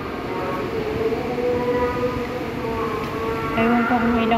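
A light rail (LRT) train pulls into an early-morning station, a steady rumbling roar with rising metallic squeal tones near the end, continuous and fairly loud in the background.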